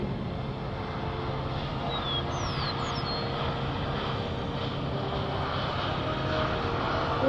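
A KC-135R Stratotanker jet lands at an airshow, its engines giving a steady, distant broadband rumble and roar throughout, with a faint high whistling sweep passing briefly in the middle.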